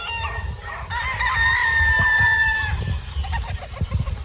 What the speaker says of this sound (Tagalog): Ito po yung mga manok niya.